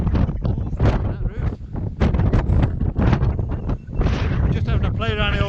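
Strong wind gusts buffet the microphone on a mountainside near a quarry pool, roaring in loud, uneven bursts close up, with a voice briefly audible beneath the wind.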